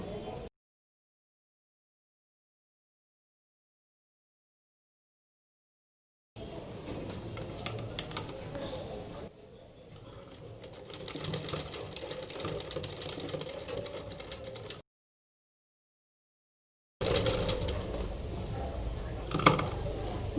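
A sewing machine stitches the side seams of a baby frock along the body, running in bursts of steady mechanical whirring separated by silent pauses, close and fairly quiet.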